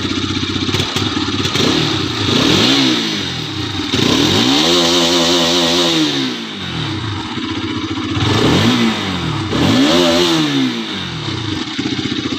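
A Bajaj Pulsar RS200 motorcycle engine idles, then revs up in several repeated rising and falling throttle blips, loud and close with no talking.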